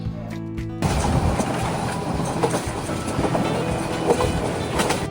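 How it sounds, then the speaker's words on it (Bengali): Passenger train speeding through green countryside in Kishoreganj, Bangladesh, with a steady loud rumble and rattle of the carriages that starts abruptly and carries on for about four seconds, with no talk. "অল্প কিছুক্ষণের মধ্যেই আমাদের ট্রেন ছেড়ে দিয়েছে দিগন্তের মধ্য দিয়ে সবুজ গেরা শ্যামল সেই প্রকৃতির মাঝখান দিয়ে ছুটছে সাই করে"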